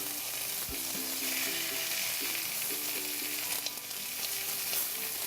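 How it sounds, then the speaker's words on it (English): Pork searing in a hot pan sizzles and crackles steadily throughout, a close, bright frying hiss with a few clinks and scrapes from the pan and utensils and no talking. "When you sear it, it's going to seal in all those nice juices of the pork."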